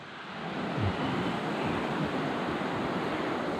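A river flows past a campsite as a steady, broadband rushing wash of water, continuous and fairly close, with slight swells and no talking.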